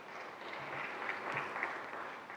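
An audience at a programming-languages talk gives a short round of applause, a soft, even patter of many hands clapping at a distance for a couple of seconds.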